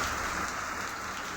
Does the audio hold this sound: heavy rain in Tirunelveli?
yes